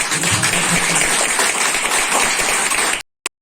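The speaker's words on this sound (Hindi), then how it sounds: "एक बार जोरदार तालियां होनी चाहिए।" A seminar audience at a network-marketing talk gives loud, sustained applause, many hands clapping densely and close by for about three seconds before the sound cuts off abruptly.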